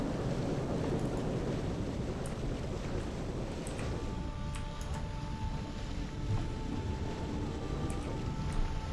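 A ship's engine runs in the Ship Simulator Extremes game: a steady, dense low rumble with wind-like hiss over it, constant and fairly loud, joined midway by faint tonal hums.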